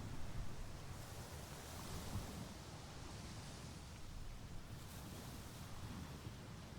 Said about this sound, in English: Apart from the waves crashing onto the sand, the island is quiet.